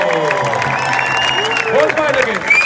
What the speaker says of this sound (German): Fetten Applaus